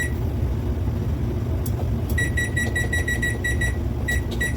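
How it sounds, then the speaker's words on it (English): A kitchen timer being set for cookie baking gives a rapid series of high, evenly spaced beeps over a loud, steady low rumble, with no speech. "So let's set that timer."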